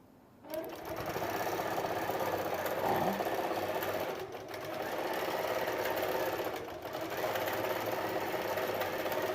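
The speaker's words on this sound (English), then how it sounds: "Notice how it's going across the top, and it's sewing that top edge." A quilting sewing machine hums and chatters continuously, stitching across the top edge of a Starberry quilt; a close, even mechanical drone with slight surges, with no talk.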